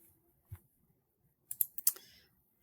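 Computer keyboard and mouse used in Excel: one soft tap, then a short burst of a few quick key presses and clicks, close and light in a quiet room.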